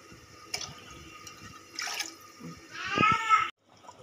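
Water is poured into a cooking pot for chicken thalappakatti biryani rice, giving a few short splashing bursts that build into a louder, fuller pour near the end before stopping abruptly.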